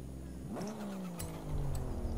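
Exhaust of a Nissan S15 with an RB26 engine in Forza Horizon 5, a single rev that climbs then settles into a steady droning note, loud and close with no talk.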